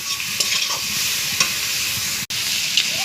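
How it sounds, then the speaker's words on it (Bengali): Prawns frying in hot oil, a steady close sizzle with occasional sharp crackles and pops, no voices. "এবার চিংড়িগুলো সব ছেড়ে দেব। চিংড়িগুলো সুন্দর করে ভেজে নেব।"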